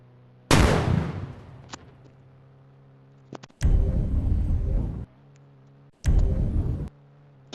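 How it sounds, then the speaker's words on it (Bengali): Three loud RPG rocket launches in the Indian Bike Driving 3D video game, each a sudden blast with a long rumbling roar that cuts off abruptly, spaced a couple of seconds apart over a low steady game hum. "এবার আরপিজি মানে যে ওটার একদম ফুল ভলিউমের সাউন্ড দেখেন।"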